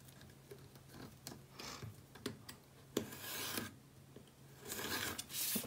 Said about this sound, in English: I'm just going to do this with my X-Acto knife